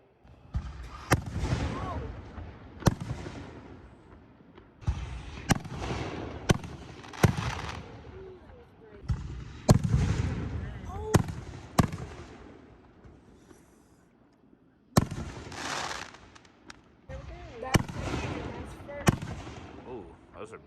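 Big fireworks burst at a vacation display, a run of loud booms and crackling explosions at irregular intervals over about twenty seconds, heard from a middle distance with people talking and reacting in between.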